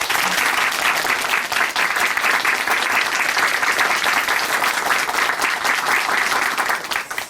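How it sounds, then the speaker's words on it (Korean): An audience gives a loud, sustained round of applause during a church testimony broadcast, dense steady clapping with no talk, fading slightly at the end. "김영자 자매님께 큰 박수 보내드리겠습니다"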